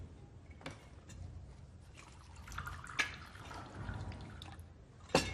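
Liquid pours into a cup for reading tea leaves, a soft trickle with faint drips and a brief splash near the end, close by and quiet.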